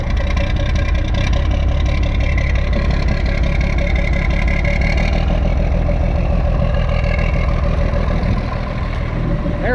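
A small farm engine idles steadily after starting, warming up with a loud, continuous rumbling chug that holds even throughout, alone with no talk.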